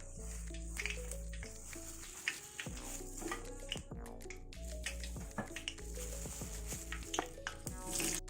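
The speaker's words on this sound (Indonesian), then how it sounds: "Berikut kita goreng kentang." Potatoes fry in hot oil with quiet, steady sizzling, occasional pops and clinks, behind a low background hum.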